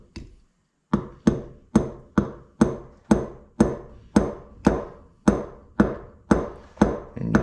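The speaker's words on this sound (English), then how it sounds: "we're going to take a hammer and very lightly tap this in" A hammer taps a part into a Harley CV carburetor from a 2000 FXSTD, about a dozen sharp, evenly spaced knocks, each ringing briefly before the next, close and fairly loud with no talk.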